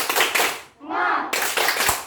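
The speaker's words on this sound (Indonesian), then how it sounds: "kita tepuk semangat dulu." A school class does a rhythmic clapping chant led by a teacher, bursts of quick unison claps broken by a short spoken call, with children's voices joining in.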